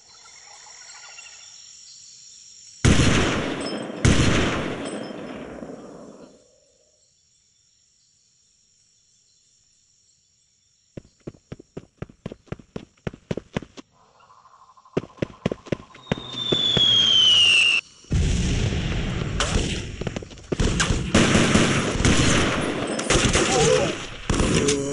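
Gunfire from the Delta Force Land Warrior PC game, with a couple of heavy blasts, then a quiet gap and bursts of rapid automatic shots followed by dense sustained firing and a whistling shell.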